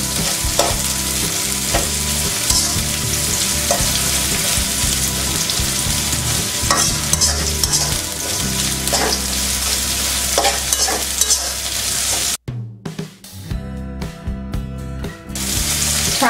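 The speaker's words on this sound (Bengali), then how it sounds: "এবার তেলের মধ্যে পেঁয়াজ কুচি, রসুন কুচি, পেঁয়াজ আর রসুনগুলোকে ভালো করে ভেজে নিতে হবে" Chopped onion and garlic sizzle loudly in hot oil in a pan, a dense continuous frying hiss with stirring scrapes for about twelve seconds, then the sizzle suddenly drops away to quieter intermittent clatter.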